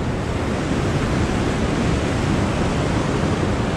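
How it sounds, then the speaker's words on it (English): A small stream flows over smooth, flat shale rocks in Ohiopyle State Park, Pennsylvania, making a steady, close, broadband rushing and splashing wash that continues without pause and without any voices. "a little stream popping out of nowhere"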